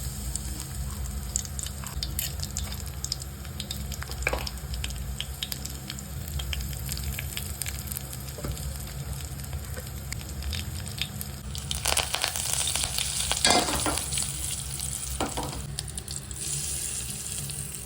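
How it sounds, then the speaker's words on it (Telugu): Steady sizzling of a tempering frying in hot oil for mint chutney, with a louder burst of crackling partway through and a few light clinks, no voices. "రుబ్బుకున్న తర్వాత అందులో కొంచెం తాలింపు వేసుకోవాలి"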